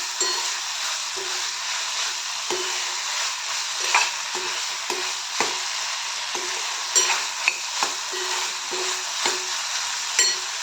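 A dry round-gourd (dhemse) vegetable curry stirred in a pan on a low flame, a steady sizzle and hiss broken by regular spoon scrapes and taps roughly every second, close and fairly loud.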